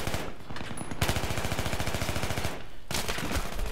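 Rapid automatic fire from a TAR rifle in Battlefield 3 Close Quarters, loud close bursts with a brief pause in the middle before shooting resumes.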